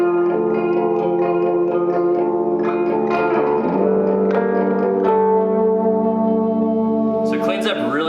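An electric guitar played through a 3rd Power Dirty Sink 25W hand-wired amp head and 112 cab, with delay and reverb, rings out sustained chords and notes that trail off in echoing repeats, loud and alone.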